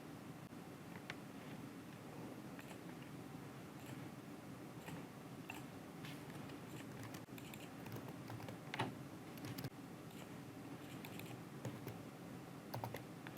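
Steady, quiet typing on a computer keyboard as story text is entered, with soft rapid key clicks running continuously and a few slightly louder taps.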